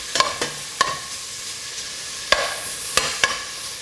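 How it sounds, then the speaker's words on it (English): Bacon fries in a pan for a soup, a soft steady sizzle broken by several sharp clicks and clatters of stirring, close and with no voices. "hopefully it should start sizzling straight away"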